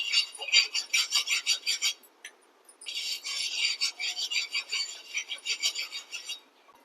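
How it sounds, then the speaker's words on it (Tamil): Oil being rubbed across a hot chapathi tawa on a kitchen stove, a dry rasping scrape repeated in quick rhythmic strokes, two bursts separated by a short pause, close and fairly quiet. "எப்போ சப்பாத்தி தவா அடுப்பில் வச்சாலும் கொஞ்சோண்டு நம்ம எண்ணெய் ஆட் பண்ணிக்கிடணும்."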